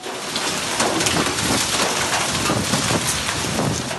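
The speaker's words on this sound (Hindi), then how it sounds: "तूफानी हवाओं के साथ बरसात," Heavy rain pours down steadily in a storm with strong winds over Islamabad, a dense, loud, unbroken wash of hiss and patter with no voices.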